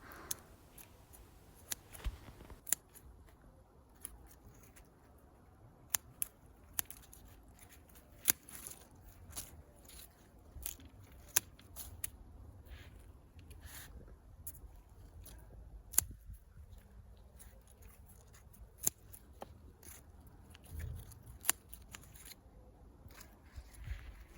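Scissors snipping leaves off tomato plants, heard as sparse, faint, sharp snips at irregular intervals over a quiet background.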